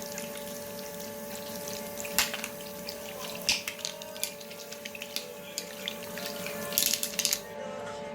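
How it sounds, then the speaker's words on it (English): A makeup brush is rinsed in running water at a sink, giving a constant faint watery hiss with small irregular splashes and drips from close by. "it's very important you rinse it thoroughly"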